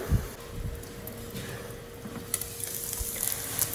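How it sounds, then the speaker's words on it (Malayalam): Marinated chicken, seasoned with salt and chili powder, frying in hot oil: a faint, steady sizzle with occasional pops and stirring clatter, no voices. "ഉപ്പും അതുപോലെ തന്നെ മുളക് പൊടിയൊക്കെ വെച്ചിട്ട് ഞങ്ങൾക്കിതൊന്ന് ഫ്രൈ ചെയ്തെടുക്കാം."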